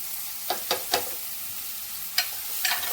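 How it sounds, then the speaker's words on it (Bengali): Capsicum and spices, including chaat masala and amchur, stirred in a hot pan, with a steady sizzle broken by several scraping strokes of a spatula, close and clear, with no talk. "ভালোভাবে মিক্স করে নিচ্ছি"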